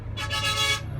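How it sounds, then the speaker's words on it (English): Car horns in Chinese city traffic give a sustained, loud honk lasting most of a second, with steady traffic rumble underneath. "They honk a lot here."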